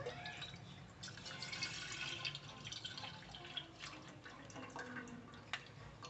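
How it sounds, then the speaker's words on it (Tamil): Packet milk poured from the bag into a pot, a soft continuous trickle and splashing liquid with small drips, faint and close, with no voices. "இப்போ நான் பேக்கெட் பால் தான் ஊற்றுறேன்."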